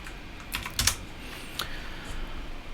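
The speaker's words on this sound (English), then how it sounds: "on Google I'm going to type engagement rate checker" Computer keyboard typing of a web search, a few quick soft key clicks in short bursts, close and fairly quiet with light room noise and no speech.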